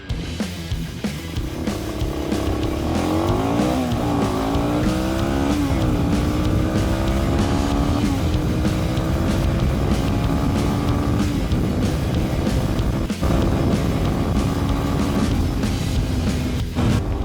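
A Suzuki DR250 Djebel motorcycle pulls away from a start on sand, its single engine note rising through several gear changes and then holding a loud, steady drone. No voices are heard.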